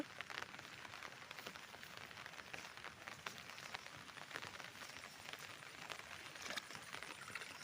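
Light rain falls in a village, a faint, steady hiss with soft scattered patters and no voices.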